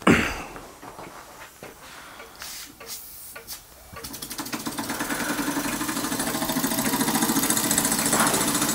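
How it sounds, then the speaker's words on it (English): A tiny scratch-built model steam engine starts up and runs steadily with a rapid, even mechanical chuffing that builds in loudness and stays close and continuous after a few quieter handling knocks. "What a lovely little engine."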